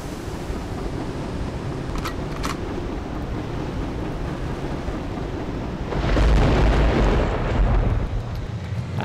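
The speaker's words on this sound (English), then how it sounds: "Let's launch a torpedo at them." A torpedo launched in the naval video game Victory At Sea: a steady rushing roar with a couple of faint clicks, then a heavier, booming surge of explosion-like rumble partway through.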